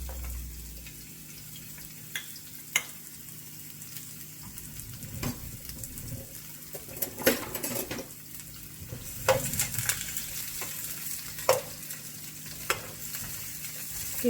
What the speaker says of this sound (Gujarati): ગેસની ફ્લેમ થોડી આપણે લો રાખીશું, જેથી કરીને આપણી ડુંગળી બળી ના જાય, અને થોડી એને બ્રાઉન થાય ત્યાં સુધી આપણે એને ફ્રાય કરીશું